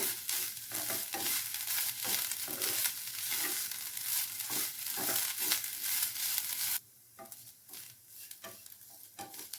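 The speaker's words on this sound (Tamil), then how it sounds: "இந்த நெய்யிலேயே தேங்காவை நல்லா வறுத்துக்கலாங்க." Grated coconut roasts in ghee in a pan, a bright crackling sizzle punctuated by regular stirring scrapes that suddenly drops much quieter near the end as the frying continues softly, with no voices.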